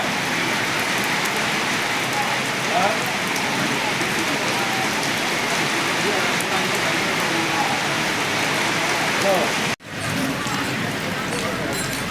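Steady rain falls on surfaces in Madurai and Sivaganga districts, a dense continuous hiss of drops with a brief cut near the end and faint background voices.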